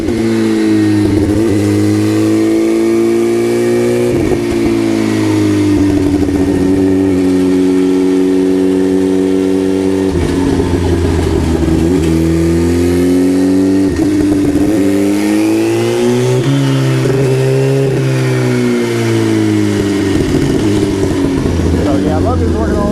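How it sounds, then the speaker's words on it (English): A turbocharged Suzuki Hayabusa bracket bike runs hard on a dyno, its engine loud and continuous with pitch climbing and dropping through repeated revs, with speech from people nearby. "we'll get this thing on the dyno going and see how much power we can make with this thing."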